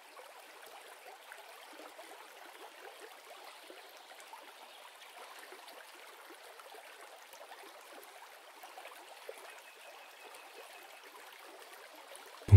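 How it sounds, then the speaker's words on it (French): River water trickling and flowing between stones in a quiet natural setting, a soft, steady babbling wash heard alone at low volume throughout. "le doux son de l'eau qui serpente entre les pierres et suit son cours"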